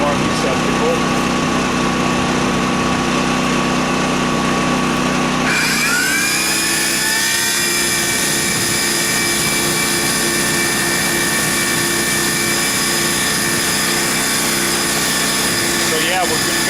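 An old shop vac powered by a Wen 11K generator roars steadily, its pitch shifting and settling after a few seconds, while a voice talks underneath the continuous loud drone.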